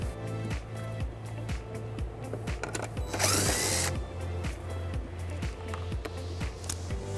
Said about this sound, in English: this exposes a screw that we're going to remove using an 8 millimeter socket